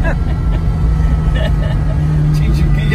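A Ferrari Dino 246 being driven and shifting gears, its engine a steady, close drone from inside the car that holds a fairly even pitch throughout.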